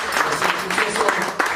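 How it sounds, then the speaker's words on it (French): An audience applauds a young person in a short, lively burst of clapping, close and fairly loud, with a voice briefly mixed in. "ici, il faut applaudir pour lui"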